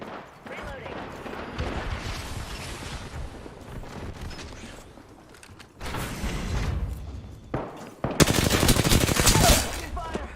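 Sustained video game gunfire from a battle royale match, dense automatic bursts with mechanical clatter that swell loudest near the end, with players talking over the shooting.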